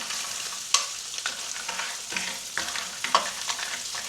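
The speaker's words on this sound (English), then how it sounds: "Stir that around in the nice butter and fat." Carbonara ingredients stirred in butter and fat in a pan: a soft continuous sizzle with a few sharp utensil scrapes and knocks against the pan, close up and with no talking.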